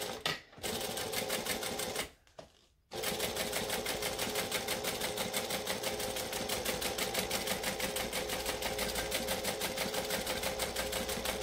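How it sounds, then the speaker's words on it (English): Sewing machine top stitching fabric at a size 4 stitch length, a close, steady rapid needle chatter running continuously after a brief start-stop near the beginning. "I'm going to go up to my size 4 stitch length, and I'm now going to top stitch this down."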